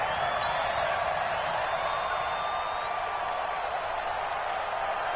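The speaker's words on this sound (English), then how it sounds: "the crowd getting into it as we come up on a big 3rd down" A stadium crowd in an American football video game roars steadily as a big third-and-goal play approaches, a dense, continuous cheer with faint whistles rising above it and no clear speech.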